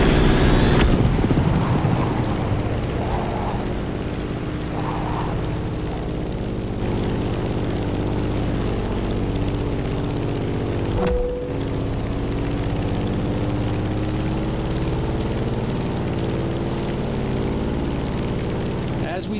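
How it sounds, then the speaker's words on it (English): Grumman F8F Bearcat propeller plane engine in The Crew Motorfest video game, a loud steady droning roar with a constant low throb and a brief dip partway through. "In the cockpit of a stunning Grumman F-8F Bearcat, or simply the Bear."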